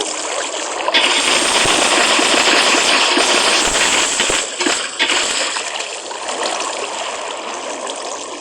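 Water sloshing and splashing in a small fish tank as fish swim, continuous close churning and trickling that drops off briefly before resuming a little quieter.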